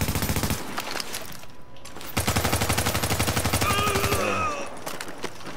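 Gunfire in The Division during a rooftop fight, rapid machine-gun bursts in fast rhythmic strings, loud and close, with brief pauses and a short overlapping tone near the end.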